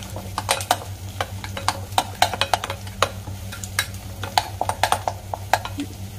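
A spoon stirs dry masala frying in a pan for a dhaba-style malai soya chaap gravy, making rapid irregular scraping clicks and taps over a steady low hum, close and fairly loud.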